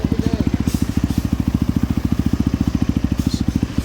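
A 2022 KEWS NC 300 dirt bike engine idles close by, a steady, even low thumping pulse that holds throughout with no revving.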